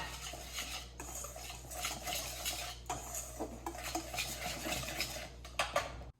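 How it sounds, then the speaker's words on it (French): Flour, yeast, sugar, vanilla sugar and salt being mixed in a bowl for pancake batter, with continuous scraping and clinking of a utensil against the bowl. "Mélangez les matières sèches, c'est-à-dire votre farine, votre levure, votre sucre, sucre vanillé et le sel."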